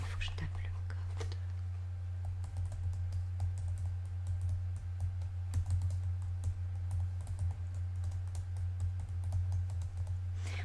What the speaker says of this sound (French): Il faut que je tape le code.